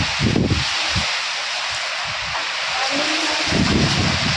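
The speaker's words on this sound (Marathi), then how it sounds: "बापरे हवा किती सुटली उडूनच जाते माणूस" Strong wind in a rainstorm roars steadily across the microphone, a broad buffeting rush with low thumping gusts throughout.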